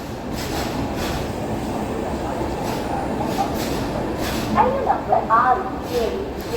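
The Lingampalli–Narsapur train rolls by with a sustained rail rumble, and bright metallic wheel squeals rise briefly near the end over the steady carriage noise.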